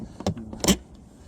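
A Milwaukee Packout toolbox drawer slides shut with a short rattling slide and a firmer closing thud, two brief clustered sounds in a quiet room.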